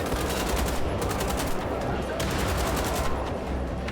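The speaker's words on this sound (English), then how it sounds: "I don't need to be shooting both of them at the same time." Rapid gunfire from a shooter game set in Wolfenstein: The Old Blood, a dense unbroken burst of automatic shots lasting several seconds, loud and close with faint talk beneath.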